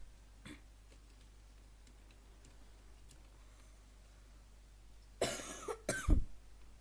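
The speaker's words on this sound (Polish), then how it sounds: "Przepraszam za mój kaszel." Two or three harsh, close coughs break out near the end after several seconds of quiet room tone.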